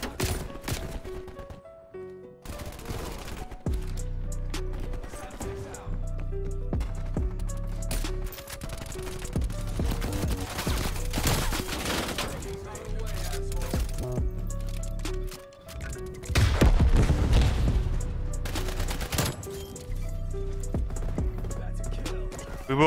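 Rapid gunfire from the Swiss mastercraft weapon in the shooter Call of Duty Cold War, with dense repeated shot bursts and clattering across the whole stretch, loud and close, with brief pauses between volleys.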